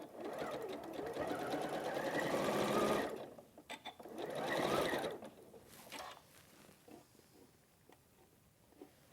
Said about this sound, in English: we're going to stitch that down along that line. And again, you can chain piece.